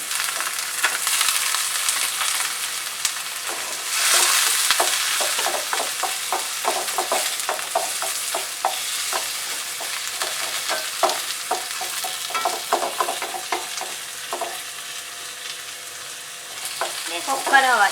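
Bamboo shoots are stir-fried with shrimp in a hot pan, a continuous close sizzle with rhythmic spatula scraping and tossing that surges when the ingredients go in and keeps going without talk.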